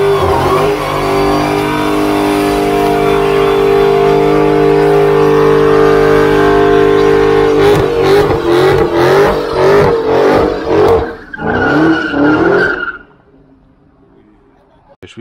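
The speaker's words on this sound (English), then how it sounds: "We got two burnouts." A car doing a burnout at a street gathering, a loud, sustained engine roar and tire squeal, then choppy revving bursts before the noise cuts off abruptly near the end, with people talking nearby.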